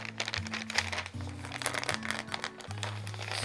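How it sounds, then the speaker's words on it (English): Fabric backed with Heat n Bond Lite fusible adhesive peeled off freezer paper, giving close, crisp crinkling and rustling in irregular bursts over a low background hum. "I'll just go ahead and kind of peel this up off of my freezer paper here."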